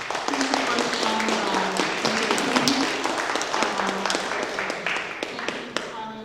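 Applause from an audience at a Bigfoot healing gathering, a steady dense wash of clapping with scattered sharp individual claps, sustained and fairly loud throughout, with faint voices and a low murmur underneath.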